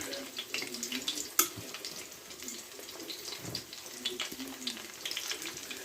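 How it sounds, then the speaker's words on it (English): Pork chops frying in a pan, a steady broadband sizzle with soft crackles and one sharp pop, heard close and continuous with no talking. "so I'm letting them fry"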